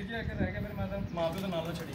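Rooftop pigeons cooing, soft rolling coos close by, with a person talking over them.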